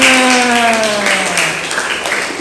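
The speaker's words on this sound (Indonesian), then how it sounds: "Tepuk tangan." Group clapping in an Indonesian classroom, a brief burst of applause under a fading sustained tone, which tapers off over a couple of seconds.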